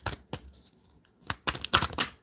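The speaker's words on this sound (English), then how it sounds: "Spirit, tell me when to stop shuffling" Tarot cards being shuffled by hand, with several brisk papery riffles and crisp snaps. The bursts come in short clusters with brief quiet gaps between them, close and fairly soft.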